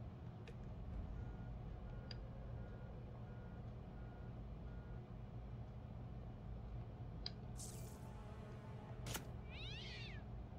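Cat meows in the South Park: The Fractured but Whole video game, a couple of short high cries near the end over a steady game background hum with scattered beeps.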